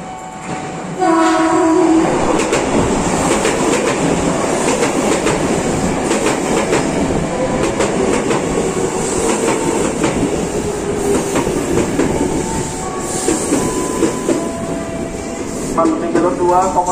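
A KRL commuter train bound for Bogor rolls into Pondok Cina station, Indonesia, at night, loud and close, with horn blasts at the start and end over rumbling wheels and clattering rails.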